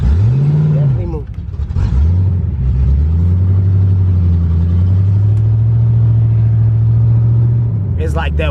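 A 1992 Chevrolet Camaro with a bad transmission drives around the block, the engine droning loud and close, rising then holding a long steady pitch as it struggles between gears, with a voice talking over it.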